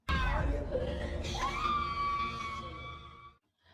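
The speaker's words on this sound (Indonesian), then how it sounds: "Dia hanya bisa berteriak untuk melampiaskan amarahnya." A woman screams in anger, one long, loud, strained cry that rises and wavers before cutting off abruptly near the end.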